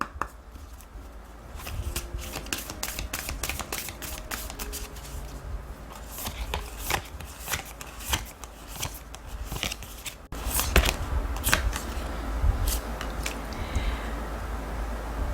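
Tarot oracle cards being handled and shuffled, a steady run of crisp papery riffles and snaps that grow louder and busier partway through, with no talking.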